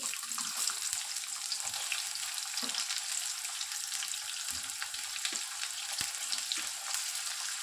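Chopped onions fry in oil with tempering seeds, close up, for a kasarakaya (bitter gourd) curry. A continuous hissing sizzle comes with occasional soft knocks and stirring scrapes from a spoon in the pan. No voice is heard.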